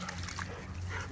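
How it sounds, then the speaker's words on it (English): Several unfamiliar dogs pass by on an afternoon walk, giving short whimpering and barking sounds close by, mixed with outdoor background noise. "Oh, here comes some more strange dogs."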